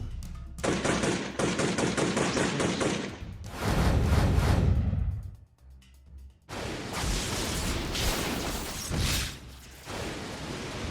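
Rapid machine-gun bursts from a manhwa action scene blast loudly in long dense volleys, broken by a deep rumbling impact and a brief near-silent gap before the firing resumes.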